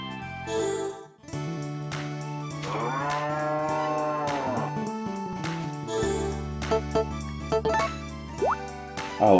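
Cartoonish cows moo repeatedly in long, drawn-out calls within the Story of Seasons farming game, loud and close over soft game music with small dripping plops.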